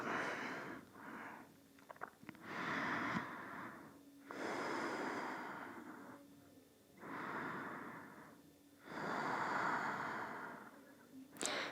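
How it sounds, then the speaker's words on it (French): Slow Ujjayi breathing during a gentle morning vinyasa yoga pose, with long, soft, hissing inhales and exhales repeating in a calm steady rhythm, close and fairly quiet, with no talking. "Gardez bien la respiration Ujjayi ici."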